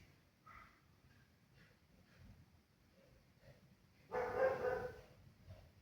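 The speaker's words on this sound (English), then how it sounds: "Sorry about the dogs. It's the neighbor's dogs." Neighbor's dogs barking in the background, a few faint distant yips early on, then a louder burst of barking near the end, heard indoors at a distance.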